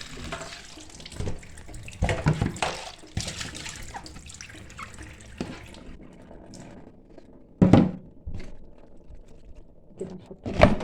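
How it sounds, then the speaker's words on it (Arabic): Tap water runs and splashes in a sink as food soaked in salt, flour and lemon is rinsed, a steady wash of water with louder splashes and bursts of handling, close by, with a few faint voice sounds. "نشطفه شطفة كويسة كده بعد ما نقعناه بالملح والدقيق والليمون."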